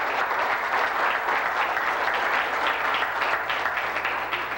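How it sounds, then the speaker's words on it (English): Audience applause at a lecture, a dense, steady clapping from a crowd that fills the room at moderate loudness and carries on evenly without voices over it. "yeah, give Brother Rashid a hand"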